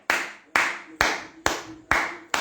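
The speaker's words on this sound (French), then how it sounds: "j'applaudis encore les Gambiens" Six loud, evenly spaced hand claps about half a second apart, close and alone with no other sound between them.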